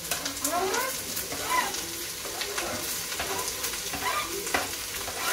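Onions, capsicum and corn fry in a pan for white sauce pasta, giving a steady crackling sizzle with clicks of stirring at irregular intervals. No voice is heard over it.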